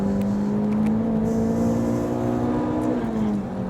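The engine of a 2006 MINI Cooper S JCW GP drones loud and close at high revs during a heel-and-toe downshift, its pitch holding steady before shifting slightly near the end.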